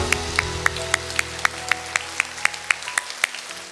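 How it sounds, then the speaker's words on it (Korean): Korean church congregation clapping in a steady rhythm, about four claps per second, each one sharp and distinct over a sustained low musical drone. "영광의 박수 올려드리겠습니다"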